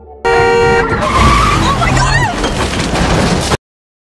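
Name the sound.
car crashing head-on into an RV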